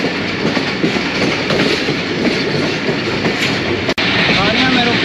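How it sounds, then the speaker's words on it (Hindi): Carriages of the Subak Raftar Express roll along steadily with a rhythmic clickety-clack and wheel rumble as the train gathers speed, heard from inside the coach, with one sharp thud near the end. "अब ट्रेन स्पीड पकड़ने वाली है।"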